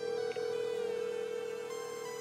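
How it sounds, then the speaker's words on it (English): An Apple Watch Series 3 call rings out as a steady electronic ring tone, a sustained clear tone with faint harmonics, close and moderately quiet, with no speech. "So, it's ringing."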